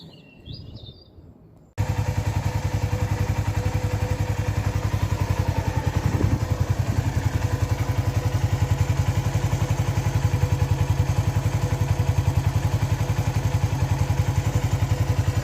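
A Lexmoto ZSB motorcycle engine starts after a brief quiet moment with bird chirps, then idles steadily and close with a fast, even throb and slight mechanical clatter, no speech.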